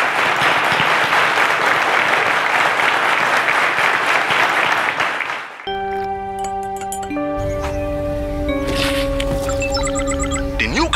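A television quiz show's studio audience claps loudly and steadily for two departing contestants for about five seconds, then the applause cuts off abruptly and bright electronic music with sustained tones and ticking accents takes over.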